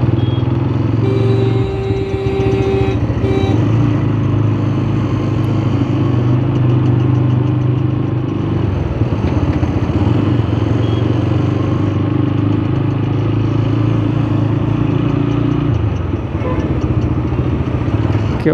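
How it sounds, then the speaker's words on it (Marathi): A motorcycle engine runs steadily in road traffic jammed near a Sai Baba palkhi procession, its low droning hum continuous and loud, with other traffic noise mixed in. "केवढे ट्रॅफिक असते रस्त्याला,"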